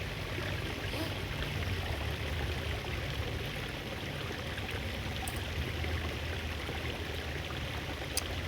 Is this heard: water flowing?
yes